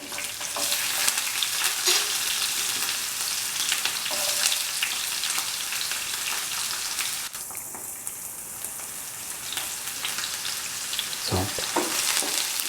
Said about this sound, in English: Now put in the shallots.